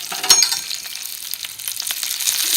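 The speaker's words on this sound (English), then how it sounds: "This grease is popping." Sausages fry in hot, popping grease in a pan, giving a close, steady sizzle with scattered sharp crackles and spits.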